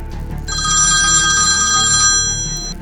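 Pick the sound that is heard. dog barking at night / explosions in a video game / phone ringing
phone ringing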